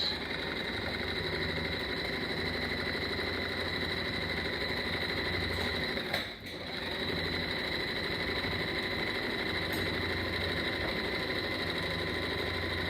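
A sewing machine running a straight stitch through fabric, a steady, close, continuous motor whir with one brief dip midway, no talk.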